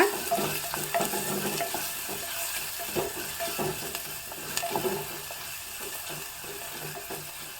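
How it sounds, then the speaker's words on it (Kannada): Small onion frying in oil in a pan while stirring, for a Mangalore Brahmin-style tilisaru; a steady close sizzle with scattered scraping clicks and light clatter, and no talking. "ಒಂದು ಸಣ್ಣ ಸೈಜಿನ ಈರುಳ್ಳಿಯನ್ನು ಹಾಕ್ತಾಯಿದ್ದೀನಿ ಇದನ್ನ ಚೆನ್ನಾಗಿ ಹುರ್ಕೋಬೇಕು"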